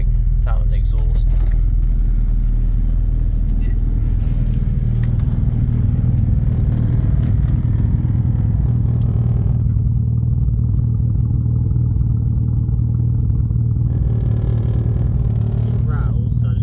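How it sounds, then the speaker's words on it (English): A BMW E46 car's exhaust idles with a loud, steady low rumble, with clattering and handling noises near the start and someone speaking over it. "Just get a quick sound of the exhaust."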